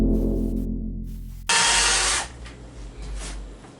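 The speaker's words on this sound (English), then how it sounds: "So let's go ahead and make a couple holes here." A power drill bores into drywall, a loud whirring burst of about a second that drops to a lower grind as it hits resistance, preceded by a steady hum, no talking.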